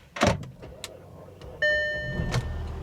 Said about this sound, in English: Battery's a little weak on that one, but she fired up.